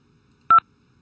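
A single short telephone keypad tone, a crisp two-note beep lasting a fraction of a second, alone against near silence during a prank phone call.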